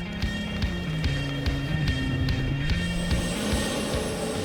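An aircraft used only for transporting racehorses at Le Bourget airport, with a steady engine drone and rhythmic low pulsing throbs, constant and fairly distant.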